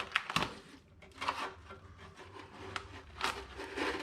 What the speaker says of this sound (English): Instead of using the screwdriver, I'm just gonna scrape this goop out.